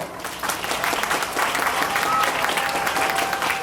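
An audience at a school Independence Day function on 15 August breaks into strong, sustained applause that swells and continues for several seconds, with voices mixed in the crowd noise.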